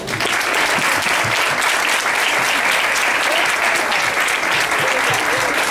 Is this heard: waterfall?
no